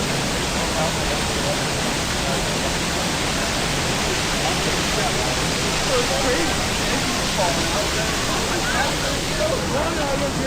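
Waterfall at Bryce Canyon roaring as a steady, loud broadband rush of falling water that fills the whole clip, with faint voices now and then beneath it.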